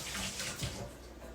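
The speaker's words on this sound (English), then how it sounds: "Rinse them off." Onions rinsed under a running kitchen tap give a steady close gush of water, with small splashy swells as they move through the stream, continuous and unaccompanied by speech.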